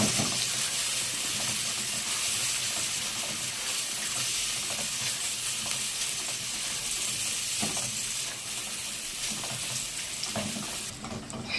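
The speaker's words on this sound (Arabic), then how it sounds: "بحمرها مع البصلايه" Onion frying in a pan for a home-cooked Egyptian meal of molokhia, rice, peas and meat, giving a steady, dense sizzle that runs continuously and evenly, close up and without talk.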